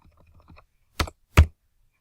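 Two distinct clicks of typing on a computer keyboard, preceded by several faint soft taps, close and isolated with silence after.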